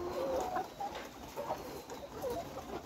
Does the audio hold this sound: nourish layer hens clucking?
yes